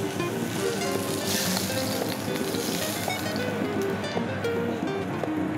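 Trout fillet seasoned with salt frying skin-side down in a pan, giving a steady, close sizzle that runs unbroken at an even level from start to finish, with no voices over it.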